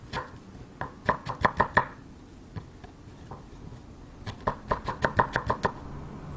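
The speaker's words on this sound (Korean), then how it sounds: "그리고 또 일정하게 채를 썰어줍니다." A knife on a cutting board makes two quick bursts of crisp, even chops while a pear is julienned into matchsticks for Korean beef tartare, with a few scattered taps in between and no talk.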